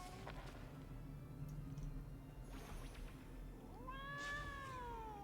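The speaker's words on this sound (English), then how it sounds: "There's another cat." A cat in a spooky Halloween-themed video game lets out two faint meows, one brief and one rising and drawn-out, over a low background hum.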